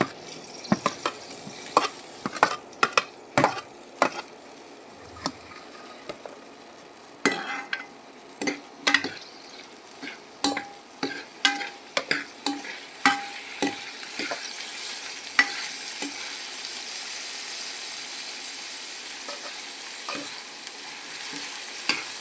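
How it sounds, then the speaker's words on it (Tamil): Onion, tomato and mint sauté in a pan over a steady sizzle, broken by frequent sharp scrapes and clacks of a spatula stirring, with the frying growing louder and hissier toward the end. "இப்போ தக்காளி, புதினா சேர்த்து நல்லா வதக்கலாங்க."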